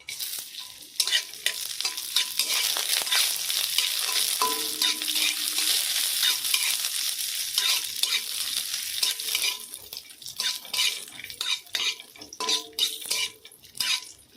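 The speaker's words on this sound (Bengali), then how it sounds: "এবার আমি কিশমিশগুলো ভেজে নেবো" Raisins fry in ghee in a wok while a utensil scrapes and stirs in quick, repeated strokes, the rhythmic scraping riding over a bright, crackling sizzle up close, with no one talking.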